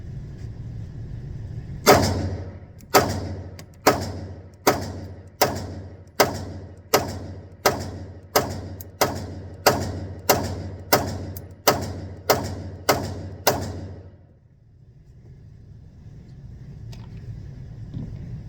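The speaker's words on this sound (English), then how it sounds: "so we're going to be shooting the P30L today" Roughly fourteen sharp, loud shots from an HK P30L pistol, fired at a steady, fairly quick pace, each with a short echo, then a pause with faint outdoor background and no voices.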